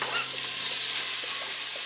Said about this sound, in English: So I'm frying the onion and the tomatoes on a medium, not too high hob